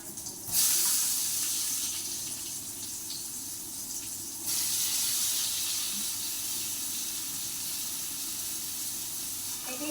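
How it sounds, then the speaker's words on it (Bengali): Soybean chunks, squeezed of water, sizzle and hiss steadily in hot oil in a home kitchen, a loud continuous fry that swells sharply when they first drop in and again a few seconds later, with no talking. "সয়াবিনে একটু ভালো করে ভেজে নেবো"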